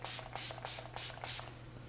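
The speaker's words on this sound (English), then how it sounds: "So I'm going to spray you really quickly." Oil-free makeup setting spray spritzed onto a face in about five quick, even bursts, each a close, crisp hiss.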